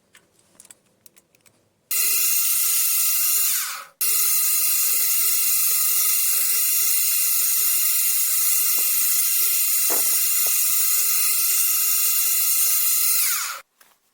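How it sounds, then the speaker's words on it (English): A high-speed drill whines steadily while drilling and tapping flanges for a centring microscope build, with two long sustained runs separated by a brief stop, close and loud and set apart by short clicks. "The flanges are drilled and tapped."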